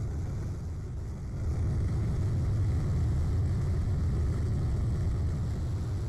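A plane in the Roblox video game gives a continuous low, rumbling engine drone, steady and moderately quiet throughout, with no speech.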